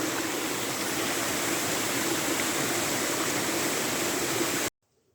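Water rushing in a levada channel on Madeira, a loud, continuous close-up flow that stops abruptly near the end.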